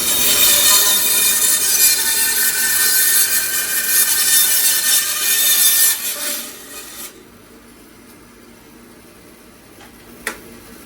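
Split, well-seasoned Himalayan cedar being trimmed into woodturning blanks, a steady loud rasping, sawing-like cut for about six seconds that fades and stops, followed by near quiet and one small knock.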